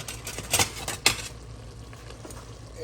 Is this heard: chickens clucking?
no